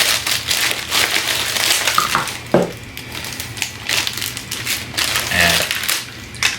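A plastic bag holding a Gorilla Gripper tool crinkles and crackles as it is handled and pulled open, with irregular crunchy bursts close by.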